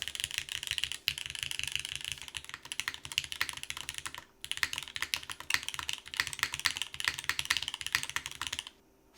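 Continuous brisk typing on an LX60 mechanical keyboard fitted with O-rings: close, rapid clacks in an even stream with a brief pause midway, no talking.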